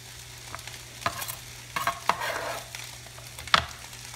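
Onions added to drained ground meat for tacos, sizzling in a pan on the stove, with a steady low fry broken by several sharp stirring and scraping clacks; no talk.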